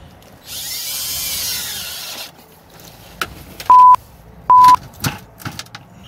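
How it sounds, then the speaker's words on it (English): A power drill whines briefly piercing an oil filter on a 2017 Powerstroke diesel truck, then scraping and clicks, followed by two sharp high electronic beeps and a few scattered taps, close and fairly loud. "Make sure the drill is in the right direction."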